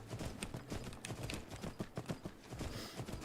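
Horse hooves clip-clop steadily beneath a rider in an Elder Scrolls game, a close, continuous rapid trot of repeated hoof strikes with no talk over it.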